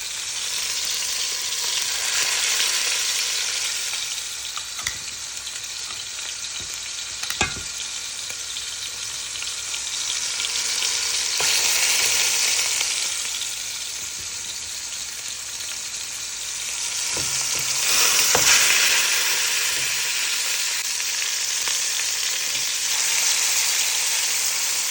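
Oxtail pieces, cut large, sear in a pot with a loud, steady sizzle that swells and eases in broad waves, with a few sharp clinks as more pieces go in.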